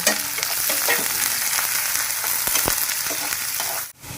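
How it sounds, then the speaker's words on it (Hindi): Onions frying in hot oil in a pan, the first step of a dry mutton kaleji and fefsa dish, giving a steady, loud sizzle with a few sharper crackles and stirring clicks throughout, with no talking. "ये प्याज अच्छे से फ्राई हो जाएगा ना"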